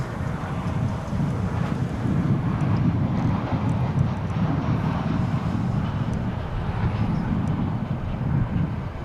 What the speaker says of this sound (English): Here comes a flight from Phoenix,